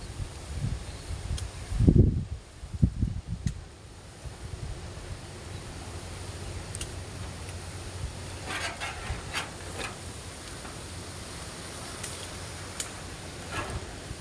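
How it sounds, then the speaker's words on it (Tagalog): Strong wind blows outdoors at a planting plot, a steady rushing hiss with leaves rustling and a few heavy gusts buffeting the microphone early on, otherwise fairly even and moderate. "Grabe lakas ng hangin."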